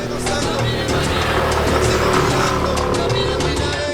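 A rented scooter rides along roads on Madeira, its small engine droning steadily and loudly with wind rushing past, continuous throughout.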